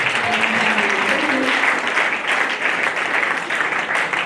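Steady applause from a church congregation fills the whole stretch, dense and continuous at even loudness with a faint voice underneath.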